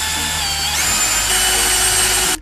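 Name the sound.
small drill boring a hole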